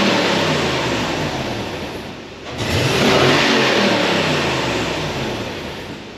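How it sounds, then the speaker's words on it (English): A Toyota truck engine with headers revs up loudly, dips briefly, then climbs again in a strong, sustained rev before easing off, with a rough exhaust edge and a slight exhaust tick. "You're going to hear a slight exhaust tick when I rev it up."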